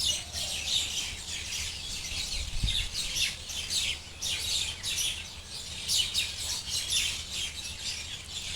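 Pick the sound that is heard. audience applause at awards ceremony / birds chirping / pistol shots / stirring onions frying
birds chirping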